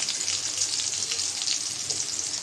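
Water spinach frying in hot oil with chopped onion, garlic and dried chili, a steady bright sizzle and crackle close by, continuous with slight stirring variations and no talk.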